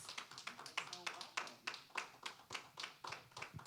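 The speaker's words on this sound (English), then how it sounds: "please give her a welcome by giving her a nice hearty hand clap" Audience clapping in welcome for a guest, Ms. Tanya Sharp, at a career readiness talk event, a steady series of distinct hand claps at a moderate distance, fairly faint with a roomy feel.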